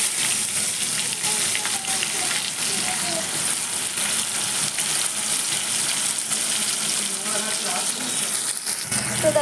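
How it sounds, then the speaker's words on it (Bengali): Onions frying in oil with dry red chilies, whole cumin and bay leaves after fish was fried in it, a dense, continuous loud sizzle throughout with faint stirring and a soft clunk at the very end. "এর মধ্যে আমি পেঁয়াজ অ্যাড করে দেবো।"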